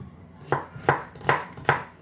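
Onions are chopped on a board at home in four crisp, evenly spaced knife strikes, close and clear, with no talking.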